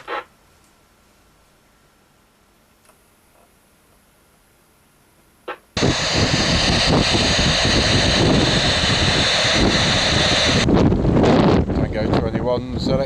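Strong wind buffets the microphone of a Jesan KT002 handheld CB radio, arriving after a quiet stretch with a couple of clicks and then turning into a loud, sustained roar of rushing noise.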